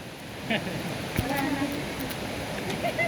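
The waterfall at Lily Falls in Aurora, Baler, gives a steady broadband rush of falling water, moderately loud and continuous, with faint voices and brief sounds over it.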